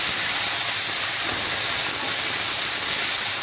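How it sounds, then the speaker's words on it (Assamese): Chopped taro hits a pan of frying onions and gives off a loud, constant hissing sizzle that stays even and close throughout. "এতিয়া মই কাটি থৈ দিয়া কচুখিনি দি দিছোঁ। এতিয়া এবাৰ লৰাই দিছোঁ।"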